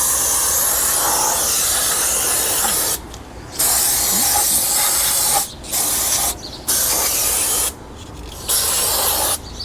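Brake cleaner is sprayed onto the brake rotor of a 2013 Kia Soul in several loud hissing bursts, some long and some short, separated by brief pauses, close up with no talk.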